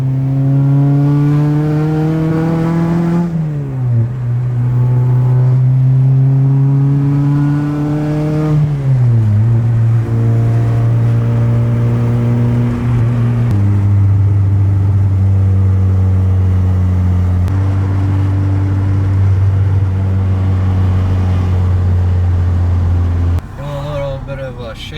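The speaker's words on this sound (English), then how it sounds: "Car is up and running." A car engine runs on a test drive after a rack and pinion steering repair, loud and close, climbing in pitch through each gear and dropping at every shift, with a voice heard briefly.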